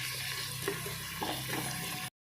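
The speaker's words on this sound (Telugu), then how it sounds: "ఆనియన్ని చక్కగా వేయించుకోవాలి." Medium onions frying in hot oil for mutton biryani, a steady close sizzle with occasional stirring scrapes, lasting about two seconds before cutting off.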